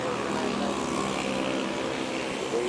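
An airliner rolls on the runway at Manila airport, a distant broad engine roar holding steady and fairly faint throughout, with no talk.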